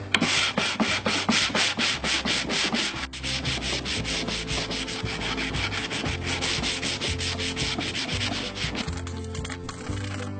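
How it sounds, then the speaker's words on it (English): A sanding block loaded with 220-grit paper is rubbed by hand over a wooden dresser in quick, close, rhythmic back-and-forth strokes that continue steadily throughout, with no voices. "I'm just using 220 sandpaper on a block."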